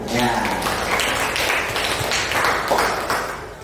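A small group claps together in a brief, steady burst of applause, close and fairly loud throughout, with no talking over it.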